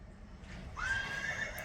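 A mare whinnies in a single rising, sustained call that starts partway in and holds to the end, fairly close, over low background rumble with no talk.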